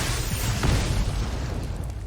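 Damage spell striking a creature in the card game MTG Arena, a loud booming burst with a crackling rumble that lingers and slowly fades, heard alone.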